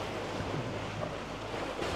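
Sea surf at Koktebel on the Crimean coast, a steady wash of breaking waves heard at a low, even level with wind buffeting the microphone and no talk.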